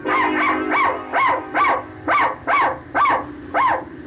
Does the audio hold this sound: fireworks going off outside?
no